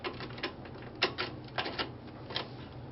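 Faint, close metallic clicks and taps, a few sharp ones standing out against a low background, as a socket bar is pushed through a pair of track brackets.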